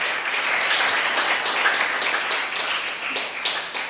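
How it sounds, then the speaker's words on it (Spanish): A church congregation at a Friday evening service applauds, a dense, sustained wash of many hands clapping at steady loudness across the whole stretch, with no talking. "Bríndele a Dios en esta noche un aplauso"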